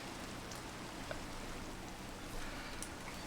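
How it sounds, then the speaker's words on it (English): Rain in the Minecraft video game falls as a faint, even hiss of steady drops that continues unbroken for a few seconds with no voices over it. "it's raining, isn't it?"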